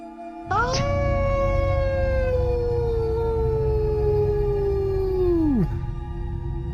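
A person imitates a wolf howl in one long, loud, sustained note that slowly glides downward and trails off after about five seconds.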